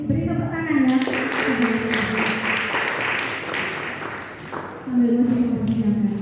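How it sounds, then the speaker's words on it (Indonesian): A young adults' Christmas church congregation bursts into hand clapping that fills the room, dense and sustained for several seconds, with voices talking over it. "Beri tepuk tangan ya."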